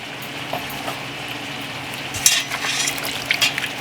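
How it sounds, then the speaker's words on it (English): A batch of leeks being washed in water to loosen sand, soft sloshing and splashing with a few brief louder swishes near the end, nearby and moderately quiet. "Now we're gonna add the second patch and wash it really well."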